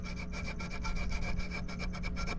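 Rolled sandpaper scrubs inside the sleeve of a Fender guitar output jack, giving a steady, close, continuous scratchy rasp with quick repeated strokes and no talking.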